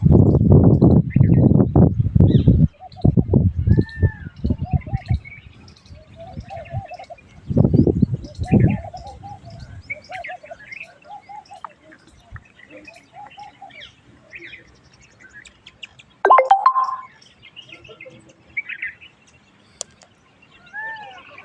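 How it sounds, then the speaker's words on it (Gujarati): Birds call and chirp around a hilltop Hinglaj Mata temple at Jinjuva, with scattered short tweets and cooing over quiet air after a few opening bursts of someone talking. "પક્ષીઓનો કલરવ તમે જાતે જ નિહાળો મિત્રો। સાંભળો હવે।"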